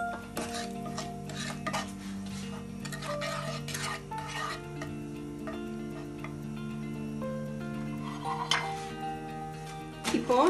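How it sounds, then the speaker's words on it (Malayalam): A spoon clinks and scrapes against a bowl, stirring a soy sauce, vinegar, honey and salt mixture. The taps come in an irregular run over a steady background tone, with a few louder knocks at the end. "ഒന്ന് ഇളക്കി കൊടുക്കാം"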